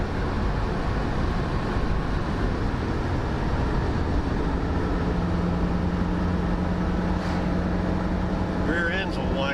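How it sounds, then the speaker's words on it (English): A 1974 AMC Javelin with a whining rear end drives along, giving a steady, dense road and drivetrain roar with a faint tonal whine, and voices briefly near the end. "Rear end's a whiner, but we're just driving it around here."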